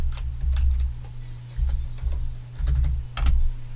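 Someone types a password on a computer keyboard: a short run of close, crisp key clicks comes in small bursts over a low background hum.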